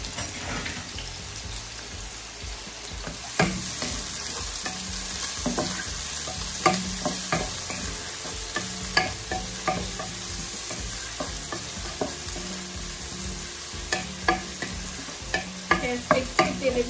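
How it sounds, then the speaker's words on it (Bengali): Onions and tomatoes fry in hot oil in a pan, giving a steady close sizzle broken by sharp spatula scrapes and clacks that come faster toward the end, with no talking. "তেলে ভেজে নিই, টমেটো দিয়ে দিলাম"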